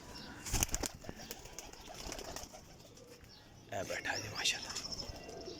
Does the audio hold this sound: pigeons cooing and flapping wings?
yes